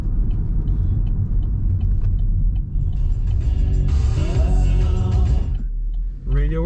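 Road traffic rolls past in a steady, close engine rumble, swelling as one vehicle goes by and then easing off, with a voice briefly audible over it.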